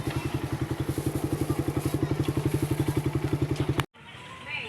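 A motorcycle engine idles with a fast, steady thumping pulse, close and loud, then cuts off abruptly near the end, leaving quiet background.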